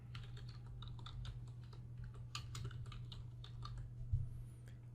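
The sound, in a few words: typing a file name on a computer keyboard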